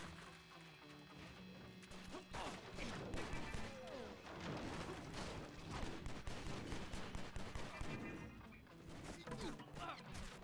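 Dense, rapid gunfire and crashing debris from breakable props during a Stranglehold video game firefight, with steady loud bursts and impacts layered over music and effects throughout.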